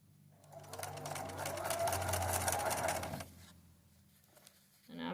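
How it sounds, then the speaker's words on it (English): A sewing machine runs steadily for about three seconds, taking a couple of stitches through quilting fabric, then stops, leaving quiet room noise and a brief bump at the end. "I'm going to take just a couple stitches in that"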